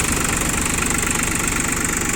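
A steady, loud all-wheel-drive mini tractor engine running on its own, a continuous mid-pitched idle with an even rumble and no voices over it.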